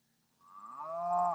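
A cow gives one long, drawn-out moo at morning feeding time on a farm. The call swells steadily louder and is heard up close, alone, with no talk over it.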